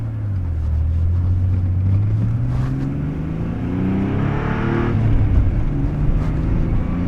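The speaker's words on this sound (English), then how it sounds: "You got the engine sound right behind you." A 1987 Pontiac Fiero with its mid-mounted V6 drones steadily while driving, heard from inside the cabin, with the engine pitch rising through a gear and then settling under constant road noise.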